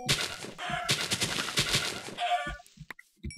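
Chickens in the Minecraft video game cluck in a dense, loud burst of squawky calls, followed by a few short scattered game sounds and clicks.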